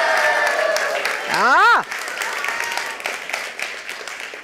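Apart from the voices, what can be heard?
crowd cheering and applauding at book award ceremony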